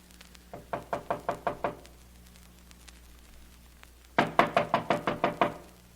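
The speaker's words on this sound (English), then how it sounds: "Wait, I'll knock." Two loud bursts of rapid knocking on a door backstage at a theater, five or six sharp raps each, the second series starting after a short pause, with faint hum and no voices.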